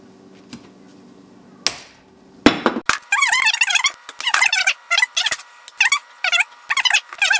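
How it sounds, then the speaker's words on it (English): Sharp metallic bangs and clanks, then a run of rapid squeaky, ringing impacts as a punch works holes through hardened steel leaf spring; no voices. "So we're just going to punch it 3 times."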